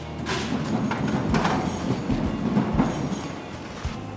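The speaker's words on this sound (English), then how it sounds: "we just heard a train passing by" A train rolls past on tracks right next to a building, a continuous loud rumble with repeated thumps and clacks of wheels over rail joints, close by and without speech.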